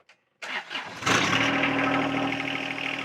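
A John Deere 1 Series compact tractor engine cranks and catches after a short silence, then runs steadily at wide open throttle with a loud, even mechanical drone and no talk.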